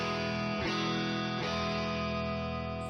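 Electric guitar played through a Neural DSP Morgan amp with the amp's own reverb, two sustained chords struck about a second apart, each ringing out into a lingering reverb tail, with no voices.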